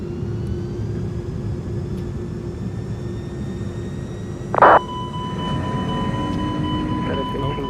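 Airbus A300-600F freighter engines spooling up toward takeoff thrust in a flight simulator game: a steady jet roar with rising whine tones, a short loud burst partway through, and cockpit chatter over it.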